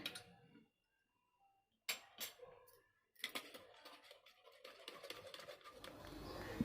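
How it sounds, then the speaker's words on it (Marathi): Idli batter beaten by hand in a vessel, with close scraping, clattering strokes that start after a pause and continue in a quick, irregular rhythm. "मी हाताने आता ते फेटून घेणार आहे"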